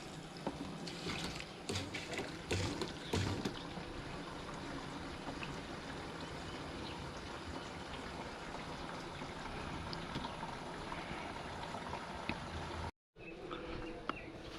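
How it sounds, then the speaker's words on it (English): Gasoline drains from the fuel tank of a 2007 Yamaha Grizzly ATV as a steady, trickling liquid stream, close and continuous, with a few clanks early on and a brief dropout near the end. "I gotta drain the tank, man"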